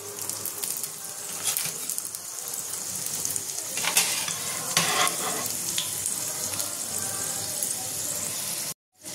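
A chicken kima paratha filled with boneless minced chicken fries in a pan with a constant close sizzle. Light clinks and stirring scrapes sit over it, then a brief silence near the end.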